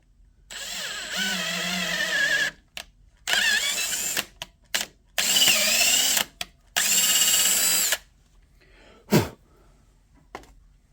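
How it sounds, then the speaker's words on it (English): A power drill whines in several bursts of a second or two, stopping and starting, close up, drilling metal on a Snapper rear-engine riding mower, followed by a few short clanks and quiet. "We'll just drill it."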